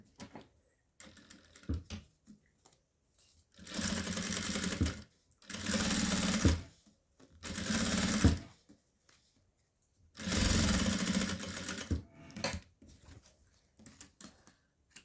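A sewing machine stitches fabric for a small zippered cosmetic bag, running in four loud, sustained bursts of a couple of seconds each, separated by pauses with soft handling clicks and fabric rustle.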